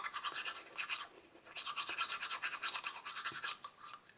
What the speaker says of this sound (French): ça fait 3 minutes que je me brosse les dents